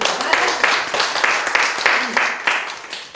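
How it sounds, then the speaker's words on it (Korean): Congregation in a church clapping warmly, a dense run of applause with regular bursts of hand claps at an even pace, loud and close throughout. "다시 한번 뜨거운 박수 부탁드립니다"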